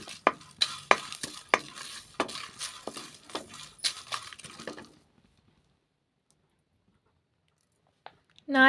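Fenugreek, cumin and fennel seeds dry-frying in a pan with mace, stirred with a spoon that scrapes and clinks in quick bursts for about five seconds, then near silence and a brief clatter at the end.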